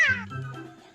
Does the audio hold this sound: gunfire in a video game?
no